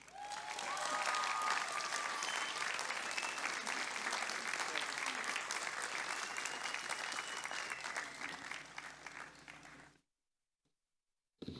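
A large commencement audience at UCSB breaks into loud, sustained applause welcoming speaker T.A. Barron, a dense wash of clapping that holds steady for about ten seconds, then cuts off abruptly into silence.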